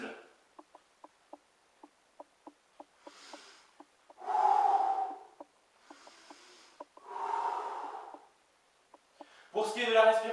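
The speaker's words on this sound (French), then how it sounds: "je vais inspirer en descendant et souffler en remontant." Someone doing bodyweight squats breathes in on the way down and out on the way up, making a few soft, evenly spaced breath bursts separated by quiet faint ticks and clicks.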